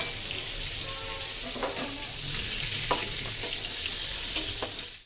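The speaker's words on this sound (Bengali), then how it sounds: "তো অনেকটা পটলটা ভাজা হয়ে গেছে" Pointed gourd (potol) with a pinch of turmeric fries in a kadai with a constant bright sizzle, while a utensil stirs and scrapes through it at irregular intervals, close and fairly loud.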